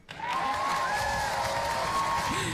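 Studio applause from an audience, a steady, dense patter of clapping that swells in quickly and holds at an even, fairly loud level throughout, with no talking over it.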